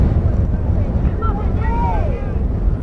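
Strong wind buffeting the microphone at an outdoor high school softball game, a loud continuous low rumble with faint voices drifting in the background.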